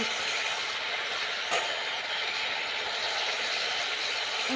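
An Indian train in a railway simulator video game gives off a steady, loud rolling roar of wheels and engine that fills the whole clip. A single brief clank stands out midway, and no one talks.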